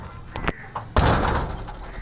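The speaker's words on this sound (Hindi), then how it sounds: "ओ दरवाजा खुल गया झटके से खुला है" A door in a home is flung open with a sudden jolt: a sharp bang followed by a rushing, rattling wash of noise, after a few faint knocks, close and fairly loud.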